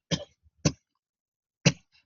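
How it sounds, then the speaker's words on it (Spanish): Three sharp, dry coughs from a lecturer, two close together and a third after a short pause, each brief and close-up with silence between. "ya me dio la tos del perrito"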